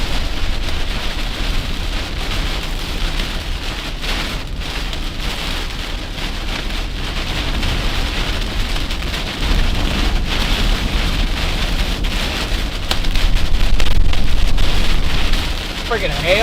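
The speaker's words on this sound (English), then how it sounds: "Freaking hail I'm hearing." Hail pelts down continuously during an Oklahoma supercell storm, a dense, close rattling patter mixed with wind rumble that surges louder toward the end.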